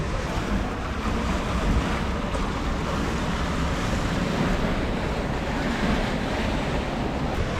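A catamaran sails in 16 to 17 knots of wind, with steady rushing wind buffeting the microphone over broad wash of waves and hull spray, loud and constant without any voices.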